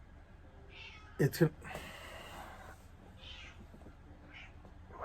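A cat meows twice in quick succession, loud and close, then gives a few softer, fainter calls afterward, with someone speaking briefly.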